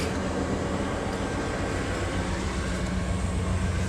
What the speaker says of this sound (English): there's a train coming right now